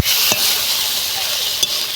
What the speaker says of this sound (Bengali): এবার ধনেপাতার সাথে ভালো করে নেড়ে নেব।